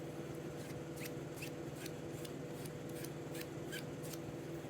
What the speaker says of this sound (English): I'm just going to scratch that off real quick,